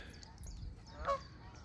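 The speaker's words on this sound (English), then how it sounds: "Canadian geese." A single Canada goose honk rings out faintly at a distance over soft outdoor background noise in green countryside.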